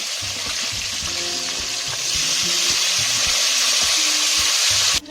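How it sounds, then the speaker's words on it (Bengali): Potatoes frying in hot oil in a pan, a continuous close sizzle that grows louder and fuller after a couple of seconds, with background music underneath. "এরপর আলুগুলো ভেজে নেব।"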